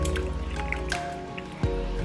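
Chili seasoning is stirred into thick chili in a crockpot, giving close, wet squishing and dripping sounds for a couple of seconds with a soft squelch near the end and no talking.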